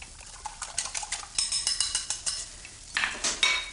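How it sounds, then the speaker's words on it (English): Eggs whisked in a bowl for spicy scrambled eggs, a steady run of quick, close clinking strokes of a whisk against the bowl, about three per second, alone without talk. "So whisk these together,"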